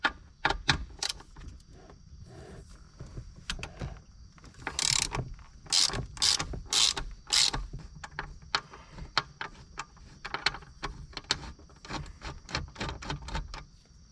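A bolt on a Honda Civic mechanism is being removed with a ratchet wrench. Rapid clicking ratchet bursts alternate with metallic clanks and handling noises, close and fairly loud.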